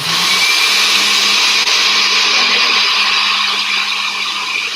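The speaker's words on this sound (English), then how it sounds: "So here we go again with the blender." A blender runs at full speed through butternut squash soup, a loud, steady whirring drone that holds without pause for the whole stretch, with no talking.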